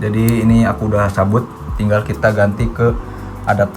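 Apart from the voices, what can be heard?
No everyday noise stands out behind the speech.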